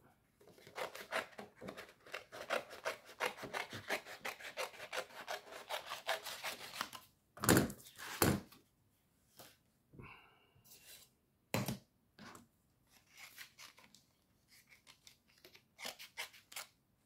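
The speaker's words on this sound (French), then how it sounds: "je vais découper ces trois-là, là" Scissors cutting out small pieces for a handmade box, a quiet close run of quick rhythmic snips and paper rustling, broken by a few louder handling clicks and short pauses.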